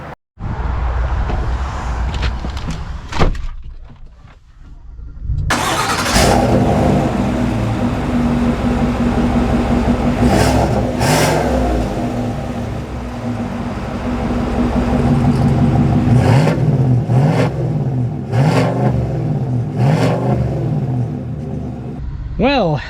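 A 2025 Chevy Silverado 1500 ZR2 with a V8 starts up and pulls away, its deep engine rumble swelling and surging through several revving pushes after a few seconds of quieter idle and clunks.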